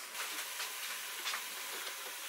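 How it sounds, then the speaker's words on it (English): Chicken curry base sizzling and frying in a pan while being stirred, a steady soft hiss with faint scraping bursts throughout, fairly quiet and without talk. "Just keep stirring and frying."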